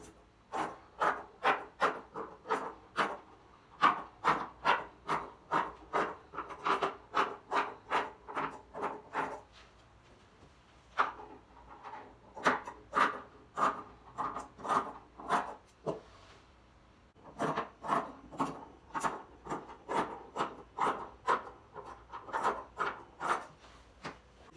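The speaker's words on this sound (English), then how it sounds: "Then I'm going to cut it out." Scissors cutting through dress fabric in steady rhythmic snips, close and crisp, pausing briefly twice before the snipping resumes at the same pace.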